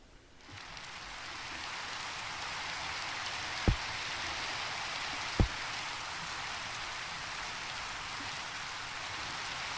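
Steady rain falls in the Minecraft Sky Factory 3 world, a constant hiss of drops that swells in within the first half second, broken by two sharp clicks partway through.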